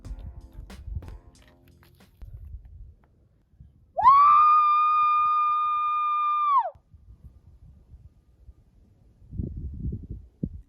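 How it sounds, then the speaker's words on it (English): A person screams from a mountain crevasse, one sustained, steady, piercing cry lasting a few seconds that cuts off abruptly, loud and close, framed by quiet rustling before and after. "Then I just screamed."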